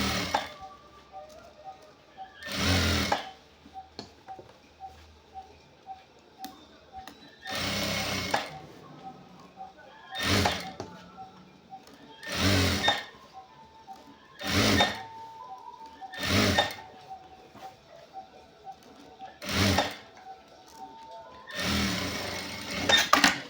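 Sewing machine stitching the seams of a checked shirt in bursts of a few seconds each, about eight separate runs spread between quiet pauses, loud and close.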